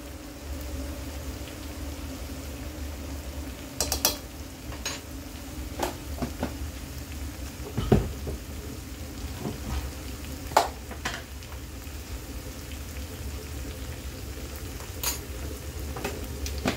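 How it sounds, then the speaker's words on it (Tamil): Chicken sautés in a pan with coriander powder, pepper and other masala spices, giving a steady low sizzle with scattered sharp scrapes and clinks as it is stirred. "எல்லா மசாலாவும் போட்டு நல்லா வதக்கிக்கலாம்."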